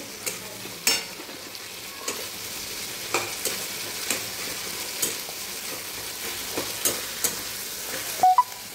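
A spice mix fries with tomatoes in a pan, giving a continuous close sizzle as a spatula scrapes and knocks the pan at a steady rhythm of roughly one stroke per second, with no talk.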